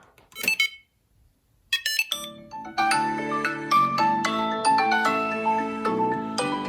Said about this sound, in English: And then my phone is letting me know that my tile is there